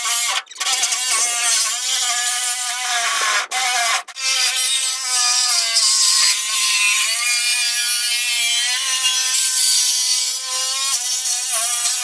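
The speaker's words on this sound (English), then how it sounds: "get you a Sawzall and a blade that's long enough to go through the inner and outer panels." Sawzall reciprocating saw with a long blade slicing through the inner and outer body panels of a 1965 Mustang, a loud close metallic buzzing whine, briefly interrupted twice early on, then cutting steadily to the end.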